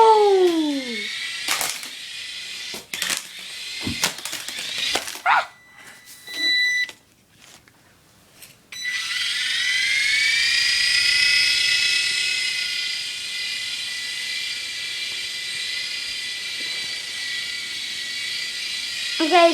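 An Air Hogs toy remote-control helicopter flying, its high electric motor whine rising and settling into a steady sustained buzz after a few bursts of start-and-stop, close and fairly loud.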